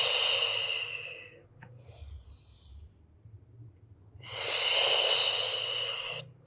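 Two long forceful exhales through the mouth during a fitness workout, close and breathy, separated by a quieter stretch with a brief sharp intake of breath.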